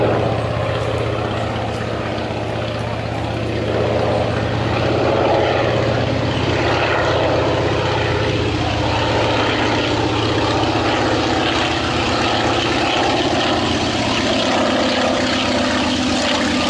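An Antonov An-2 propeller biplane in flight, its radial piston engine droning loud and continuous with a steady low throb, close and unbroken for the whole stretch, no voices present.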